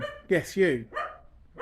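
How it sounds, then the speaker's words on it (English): A dog barks twice in quick succession nearby at a home where chairs and paint are being worked on, followed by a softer yap, with a person speaking briefly over it. "And there's another dog woofing."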